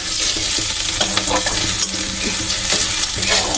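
Onions fry in a pan on a gas stove while a spatula stirs and scrapes them repeatedly, a loud, close, dense sizzle broken by irregular clinks and scrapes.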